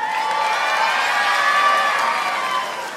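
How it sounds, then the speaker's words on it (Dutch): A crowd in a hall at a children's carnival song festival gives the children's jury a loud, sustained burst of applause and cheering that tapers slightly at the end. "Geef ze een applaus."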